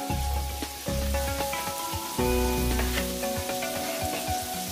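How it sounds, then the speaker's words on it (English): Sautéed shrimp go back into a hot pan for shrimp and grits, giving a loud, continuous crackling sizzle with a few clinks and scrapes of stirring and no talking. "Let's add back in our beautiful sauteed shrimp."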